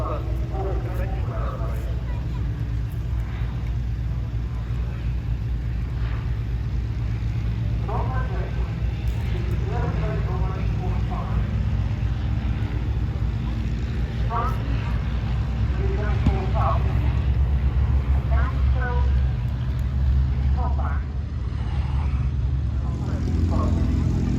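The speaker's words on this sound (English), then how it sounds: "Mustang. Oh, I love that noise." A P-51 Mustang makes a flyby at an IWM Duxford air display, its piston engine and propeller giving a broad, steady drone that stays loud for the whole stretch, with crowd voices and commentary over it.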